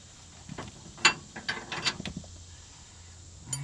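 A wrench loosens a shock absorber bolt on a 2010 Dodge 2500 during a Bilstein 5100 shock swap, giving a close series of short metallic ratcheting clicks and clanks in uneven bursts, with a final knock at the end.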